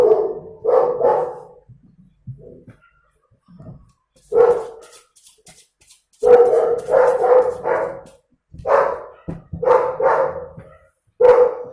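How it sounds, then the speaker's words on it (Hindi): Several bursts of a small dog's barking and yipping, fairly loud and close, arrive in uneven clusters with short quiet gaps between them, and no talking is heard. "मेरा डॉगी।"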